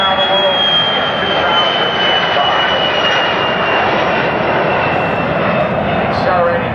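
Scaled Composites White Knight 2 in Virgin Galactic livery banks at about 60 degrees over the 2009 Edwards AFB air show, its jet engines a loud, continuous roar, with an announcer's commentary heard beneath it.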